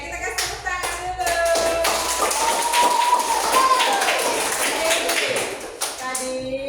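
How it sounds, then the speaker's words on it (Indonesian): A classroom of schoolchildren in an Indonesian lesson claps together, brisk, close hand-clapping that starts after a pause and runs several seconds, while young voices call out over it. "Oke, kita kasih tepuk tangan dulu."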